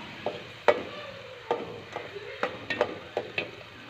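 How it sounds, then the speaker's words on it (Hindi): Onions browning in oil for a seviyan pulao, with a steady soft sizzle under repeated sharp clinks and scrapes of a spoon stirring the pan, close and moderately quiet. "सबसे पहले प्याज और ऑयल ब्राउन हो रहे हैं"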